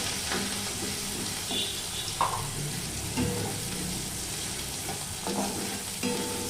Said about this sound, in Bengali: পেঁয়াজটা ভাজছি, একটু ভাজা ভাজা হলে আলুগুলো দিয়ে দেবো।